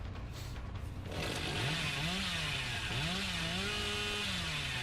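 Hillbilly's chainsaw in the video game Dead by Daylight revs up after a second of quieter noise, then holds a loud, close, continuous whine that rises and falls in pitch several times, with no talking.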